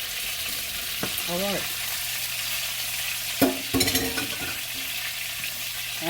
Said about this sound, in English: start placing my broccoli spears in